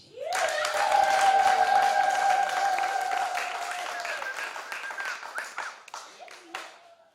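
A congregation at a joint service of united churches in Kidatu, Tabora claps together in sustained, dense applause, with a bright voice or cheer ringing over it before the clapping thins and tapers off.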